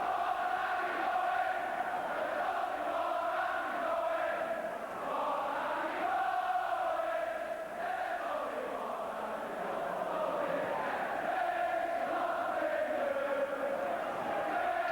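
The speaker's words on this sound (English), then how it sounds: "here's his name echoing around the crowd at that end of the stadium" Football stadium crowd at the Kop end at Anfield during Liverpool v Aston Villa in 1980, chanting a player's name in a long, rolling, echoing roar from a distance.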